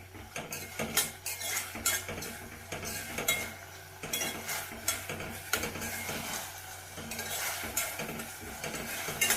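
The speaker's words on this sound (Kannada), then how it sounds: "ಈ ಥರ ಸ್ವಲ್ಪ ಹಸಿ ವಾಸನೆ ಹೋಗೋವರೆಗೂ ಸ್ವಲ್ಪ ಹಿಂಗೆ ಕೈ ಆಡಿಸಿ ಚೆನ್ನಾಗಿ." Garlic paste fries with tomato in a pan for Mysuru-style dal fry, a spoon scraping and clattering against the metal in quick, uneven strokes over a soft sizzle, close and with no talking.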